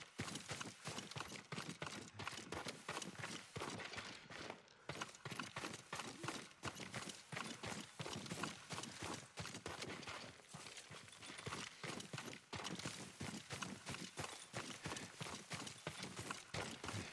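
Horse hooves clip-clop steadily in Ghost of Tsushima, the rapid beats running for the whole stretch, loud and close, with no talk over them.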